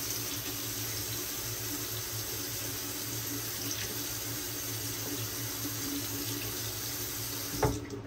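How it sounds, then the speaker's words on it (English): Tap water runs steadily into a sink while shave cream is being mixed, a continuous close splashing stream with no talk, ending in a brief clunk near the close. "So let me go ahead and add some more water to this."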